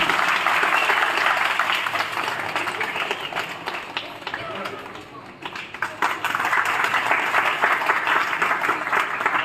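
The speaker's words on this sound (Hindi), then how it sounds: "जोरदार तालियों से स्वागत करेंगे" Loud, dense applause from an audience at a Ganesh festival stage event, honoring a guest with a ceremonial cloth, sustained for about nine seconds with a brief dip midway before swelling again, with voices mixed into the crowd noise.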